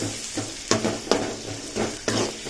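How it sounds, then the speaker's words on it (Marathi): Chopped onion frying in a pan for a Goan mushroom curry, a steady sizzle broken by repeated scraping strokes of a spoon stirring, close and fairly loud with no talking. "एक मोठो कानो घेवपाचो. कानो बरो भाजून घेवपाचो काय"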